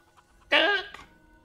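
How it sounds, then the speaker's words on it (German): A chicken creature in the video game Last Epoch lets out one short, hoarse, bleat-like call over quiet game ambience, ending with a faint trailing note. "Das ist ein Huhn, das ein bisschen Stimmbruch hat."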